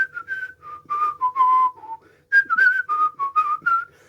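A clear, close solo whistle carries the melody of a song from Disney's Robin Hood in two bouncy phrases separated by a short pause.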